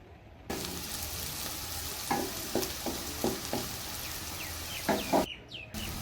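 Vegetables fry in oil with a little ghee in a pan, giving a steady close sizzle broken by several scraping stirs, while birds chirp faintly in the background.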